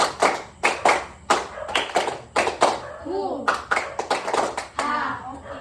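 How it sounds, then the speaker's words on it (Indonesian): Children clap in a classroom counting chant during a lesson, sharp grouped hand claps in a rhythmic one-two-three pattern, loud and close, alternating with a teacher's and children's chanted voices. "Tepuk 1, tepuk 2, tepuk 3"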